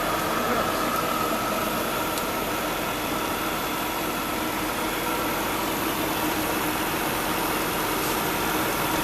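A 2009 Jaguar XJ Super 8 Portfolio engine idles under the open hood, a quiet, steady low hum mixed with a soft hiss and fan noise, with no voices.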